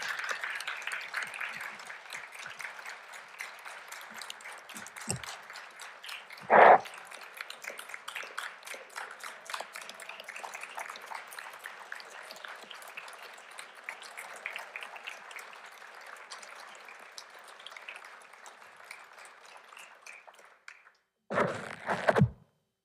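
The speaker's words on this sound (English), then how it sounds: "how about a nice round of applause for all of our retirees?" A board of education meeting audience gives a round of applause for retirees, moderate and steady clapping that fades out gradually, with a brief bump midway and a short burst near the end.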